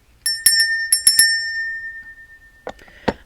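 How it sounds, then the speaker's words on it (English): Small bells rung to clear sacred space, two quick bright clusters of ringing strikes that sustain and fade, followed by two softer clinks near the end, close and alone. "I'm going to ring the little bells while I sip my coffee."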